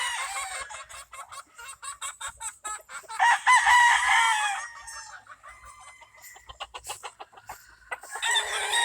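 Roosters crow and hens cluck in a busy mix of calls, some close and loud, others overlapping in the background.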